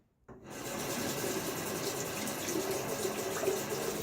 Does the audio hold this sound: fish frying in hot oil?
no